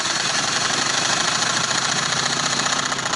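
Electric sewing machine stitching a winter frock, a steady continuous whirring hum with a fast even rhythm running loud and close throughout, with no talk.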